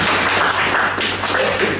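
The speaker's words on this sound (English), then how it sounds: "Another round of applause for getting some." A short round of crowd clapping at a Thai hotel chain staff gathering, a brief, uneven patter over a low steady hum.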